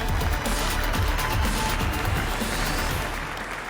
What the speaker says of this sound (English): if you would give a warm round of applause to our first speaker this morning